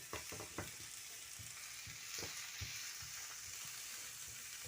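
Spinach leaves sizzling in a hot pan while filling for a chicken vegetable roll, a steady close frying hiss with a few stirring knocks and scrapes, no talking.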